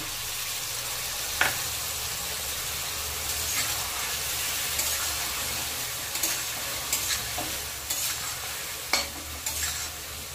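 Vegetables frying in a pan hiss with a steady, close sizzle as a soaked spice paste goes in for a hilsa and vegetable curry, with occasional spoon scrapes and stirs cutting through.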